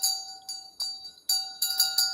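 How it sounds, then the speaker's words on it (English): A handheld bell rings several times in short bursts, bright metallic tones that ring on and shimmer, close and loud with no talk over them. "Let me grab my bell."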